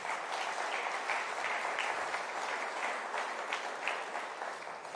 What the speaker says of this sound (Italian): fategli un bel applauso.